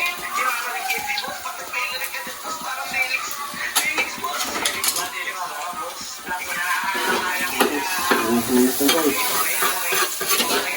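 Food stir-frying and sizzling in a pan, with a steady crackling hiss and occasional clinks of a utensil against the pan throughout.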